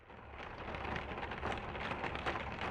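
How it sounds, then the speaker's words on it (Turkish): Rain drums steadily on a roof and patters against window glass, a dense, even hiss of drops that holds close and constant throughout, with no voices. "Yağmurun özellikle o çatıya vuran hafif şiddetli sesi ya da yağmur damlalarının cama vuran pıtırtıları."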